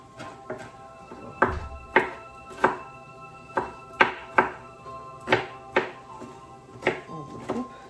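A knife chops an onion on a cutting board in sharp, uneven strokes, about a dozen close, distinct thunks spaced across the stretch with brief pauses between them.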